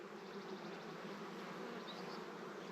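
Many honeybees buzz steadily around a small nucleus hive during queen rearing, a soft, continuous, even drone with no voices.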